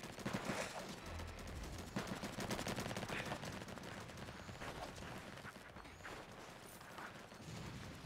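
Rapid gunfire crackles almost without a break in the Roblox game Flag Wars, a dense stream of shots with steady loudness and a few short pauses.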